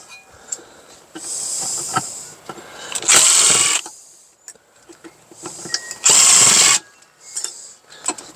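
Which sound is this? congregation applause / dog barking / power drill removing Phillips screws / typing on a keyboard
power drill removing Phillips screws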